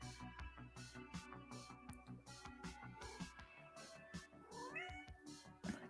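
A cat meows near the end, faint and mixed into a busy background of rhythmic music and other noise that runs steadily throughout.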